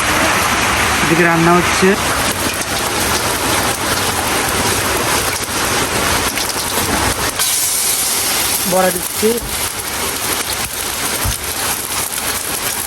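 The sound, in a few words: heavy rain falling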